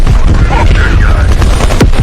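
Dense gunfire and explosions in a Call of Duty urban firefight, loud and continuous with booming hits, while voices talk over the battle.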